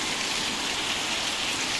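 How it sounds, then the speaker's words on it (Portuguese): Heavy rain pours down steadily, a dense, hissing wash of drops drumming on surfaces, close and even throughout with no voices. "Está chovendo"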